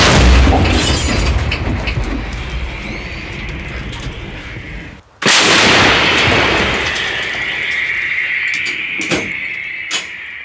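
A single loud shot from a Ukrainian artillery gun near Kostiantynivka cracks out midway, after a brief hush, followed by a long rolling echo that slowly fades into the distance.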